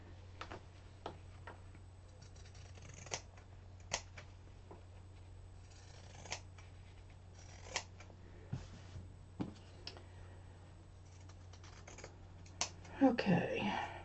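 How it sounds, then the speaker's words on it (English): Pinking shears cut around a fabric-covered board in a series of sharp, regularly spaced snips, fairly quiet, with a brief rustle of handling near the end. "I'm going to take the pinking shears on this. And just cut around the board."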